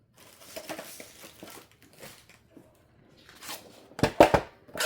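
Paper being cut with scissors for a journal pocket gives soft scattered snips and rustles, then a burst of louder, sharper crinkly cuts near the end, close and alone.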